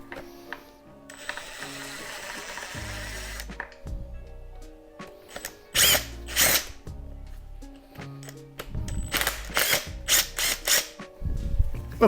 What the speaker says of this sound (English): I'm happy that the drill's not going to be putting too much force on it